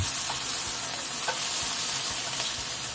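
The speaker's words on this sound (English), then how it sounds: "Sizzle on." Steady, crackling sizzle of bacon frying in a pan under a bacon press, continuous and fairly loud, with small pops scattered throughout.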